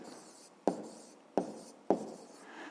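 A pen writes figures on paper in quiet, soft scratching strokes, with three sharp taps spaced through the short, close sequence.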